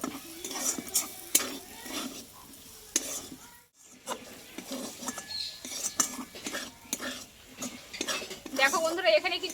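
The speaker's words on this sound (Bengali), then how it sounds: "গরম মশলা আর ধনিয়ার পাতা দিয়ে এভাবে একটু আরও আমি তিরিশ সেকেন্ড মতো নাড়াচাড়া করে নেব" Spiced potato filling with garam masala and coriander leaves is stirred in a pan, with repeated scraping and clinking of a utensil against the metal and a light sizzle, close and moderately loud.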